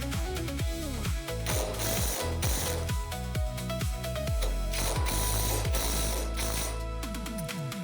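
A ratchet wrench tightens the bolts holding a basketball hoop rim in place, clicking in a quick steady rhythm. Repeated bursts of ratcheting sound close and sharp, with short pauses between strokes.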